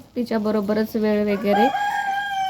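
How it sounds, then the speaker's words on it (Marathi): Roosters crowing nearby on a village farm in the late morning, loud drawn-out crows with one long call trailing off, while someone talks over the start. "आणि कोंबड्यांची आता बांग सुरू आहेच"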